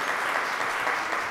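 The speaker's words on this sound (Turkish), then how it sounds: "Alkışlıyoruz sarı masayı." A television quiz show's studio audience claps in a steady, dense round of applause that fills the room and carries on without a break.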